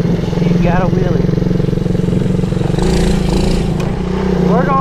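A kids ATV engine revs hard and steadily during a wheelie, a loud close buzzing drone that rises near the end, with voices faintly heard over it.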